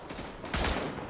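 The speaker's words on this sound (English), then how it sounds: "That guy, however, is shooting at me" Gunfire in the World War I shooter Tannenberg, a short flurry of rapid shots that swells suddenly midway, fairly loud against a noisy battlefield background, with no voices.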